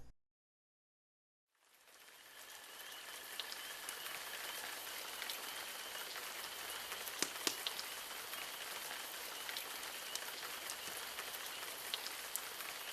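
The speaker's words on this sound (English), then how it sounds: "That night, spring rain soaked the living and the dead in Morrisville." Spring rain falling at night in Morrisville, pattering on surfaces, a dense hiss with scattered drop taps, continuing evenly after a brief silent start.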